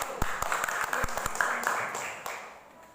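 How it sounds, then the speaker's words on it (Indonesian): A classroom of students applauds group 1 after a presentation, scattered clapping of moderate loudness with several distinct sharp claps over a softer wash, tapering off under murmured voices. "Tepuk tangan dulu buat kelompok 1."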